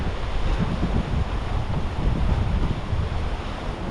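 Sea waves surge and wash near a channel crossing on an island shore, a steady loud rush of surf mixed with heavy wind buffeting, no voices.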